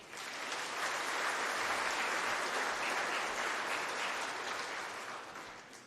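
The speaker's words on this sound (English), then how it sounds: "I think it deserves a round of applause." A large awards-ceremony audience at an agricultural prestige awards event bursts into sustained applause, a dense, steady wash of clapping that swells quickly, holds loud for several seconds, then begins to taper.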